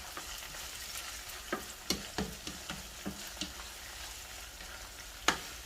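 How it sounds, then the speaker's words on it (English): Puttanesca sauce with kalamata olives is stirred in a sizzling pan: a steady close fry hiss broken by several sharp spoon scrapes and taps against the pan, with no voices. "Stir."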